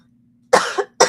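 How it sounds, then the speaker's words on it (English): A single close cough bursts out and tails off, followed by a second short cough, loud against an otherwise quiet background with a low steady hum underneath. "Excuse me, I've been coughing today"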